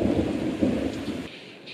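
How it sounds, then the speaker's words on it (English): Heavy rain pours outside a flooded garden while thunder rumbles low and continuously, loud and steady throughout before easing slightly near the end. "Obviously that rain was very unfortunate"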